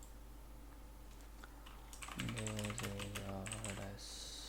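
A short burst of typing clatters on a computer keyboard for about two seconds, fairly faint, with a brief spoken word nearby.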